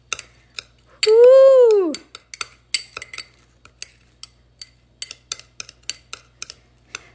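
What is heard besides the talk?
mixing CND spa manicure product in a bowl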